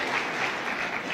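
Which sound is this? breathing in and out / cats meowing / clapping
clapping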